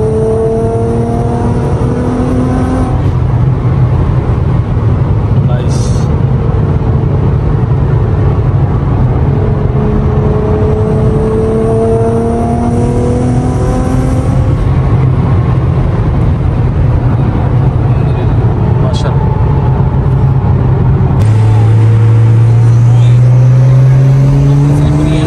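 A Nissan GT-R R35, tuned to about 800 hp, accelerates on a road with a steady loud engine drone and rising harmonic pitch through several gear pulls, the roar constant and close throughout.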